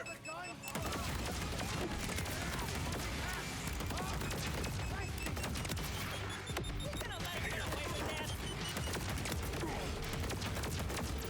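The Eigenburst, a burst weapon in Borderlands 4, fires repeated three-round bursts that rise to a loud, dense barrage. Booms and impact crashes sit among the shots, and a voice can be heard underneath.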